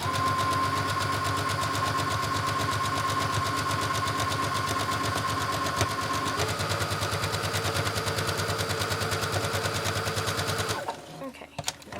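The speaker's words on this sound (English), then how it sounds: "You're going to sew around here." A sewing machine stitches fabric for a child's corset top, running in a steady, even mechanical whir for about eleven seconds before stopping abruptly, followed by faint handling sounds.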